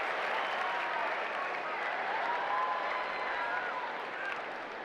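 Tennis stadium crowd at the US Open applauding, a dense, sustained wash of clapping from many hands that stays steady and tapers slightly at the end.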